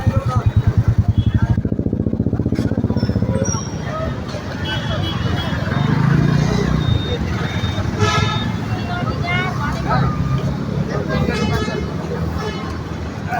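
Busy Dharan bazaar street on a one-way road, with motorcycle engines puttering close by, passing traffic and several short horn toots, while someone talks over the street noise.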